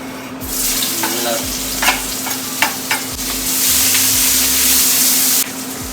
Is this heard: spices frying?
yes